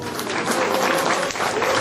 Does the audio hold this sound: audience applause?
yes